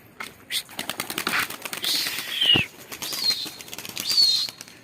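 Pigeons, Mardin birds, are released and take off, their wings flapping in repeated bursts close by, with a voice speaking over the flurry.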